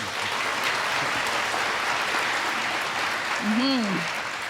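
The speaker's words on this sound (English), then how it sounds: "Let's give her another round of applause." Audience applause at the 26th annual City of Destiny Awards ceremony, a steady clapping wash throughout, with a voice calling out briefly near the end.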